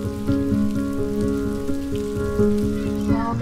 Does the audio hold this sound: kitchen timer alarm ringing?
no